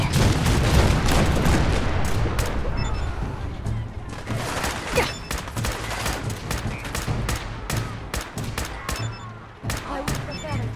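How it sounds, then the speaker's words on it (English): Cannon and gunfire barrage in the modded Fallout 4 video game aboard the Yangtze, a relentless stream of loud booms and rapid shots overlapping for ten seconds, with a voice intermittently heard beneath the chaos. "The cannons are ready. Fire at will."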